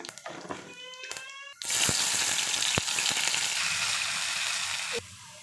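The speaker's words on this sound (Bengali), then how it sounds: "টমেটো দিয়ে দিলাম, তেজপাতা আর শুকনো মরিচ ফোড়নে জিরা দিলাম," Bay leaf, dry chilli and cumin temper in hot oil with tomato for a dal: a few clinks and rattles, then a sudden loud hissing sizzle that holds steady before dropping to a softer simmer.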